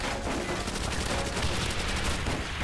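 In Call of Duty: World at War, a Thompson submachine gun fires in a dense, continuous burst of rapid shots that fills the whole short stretch at close range.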